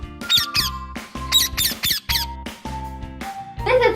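A parrot gives a run of loud, harsh squawks in short repeated bursts, close up and with no other sound between the calls.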